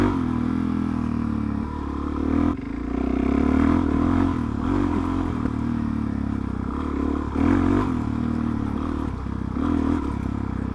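A motorcycle rides over rough, bumpy ground on a punctured tyre sealed with Tyreweld, its engine droning steadily with loud rattling and clattering knocks throughout, close and continuous.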